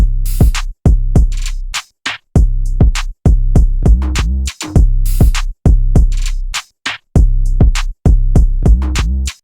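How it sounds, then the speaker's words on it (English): Deep, booming sub bass notes hit in a rhythmic trap pattern, each punchy low tone cutting off sharply before the next, loud and alone. "the sub bass is just a sample that sounds like this"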